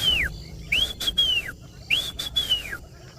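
Clear, slurred whistles of a whistling duck (Dendrocygna tree duck) ring out in two paired calls, each rising then falling, fairly close against a quiet outdoor background at sunrise on a safari.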